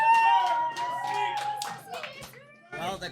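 A grand finals crowd claps, scattered hand claps and taps mixed with excited children's voices and chatter, fairly close and lively, fading slightly before a final burst.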